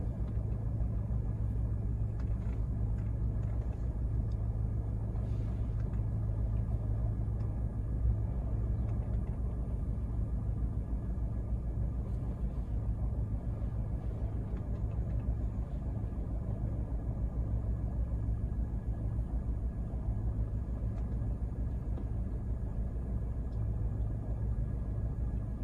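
Steady low engine rumble heard from inside a 2022 Ford Ranger Wildtrak as it drives, a constant even drone lasting throughout with no talking.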